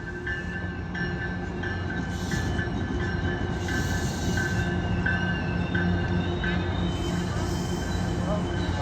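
An MBTA commuter train pulls in inbound for Boston North behind a GP40MC locomotive, with wheel squeals, clanking and a rumbling roll building close by and a sustained horn-like tone over the passing cars.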